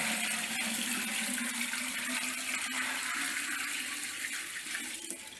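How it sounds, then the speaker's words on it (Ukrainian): Water gushes steadily in a loud, continuous rushing pour into a metal pot holding jars, filling it to cover them for several seconds. "заливаю воду, щоб покривало банки"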